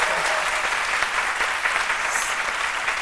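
A studio audience on a midday TV programme breaks into dense, steady applause that runs loud and unbroken throughout.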